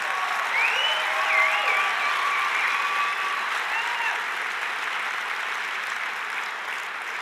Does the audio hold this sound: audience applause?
yes